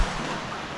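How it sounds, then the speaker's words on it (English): Rushing water of a waterfall inside a cave, a dense steady roar heard as a broad wash of noise for under a second. "There's the waterfall."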